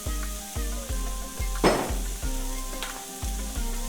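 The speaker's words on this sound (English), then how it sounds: "This is 1 diced onion, but we'll just fry it on the side." Diced onion fries in a little oil on a flat griddle, giving a soft steady sizzle beneath rhythmic music pulses, with one brief clink of a utensil near the middle and no voices.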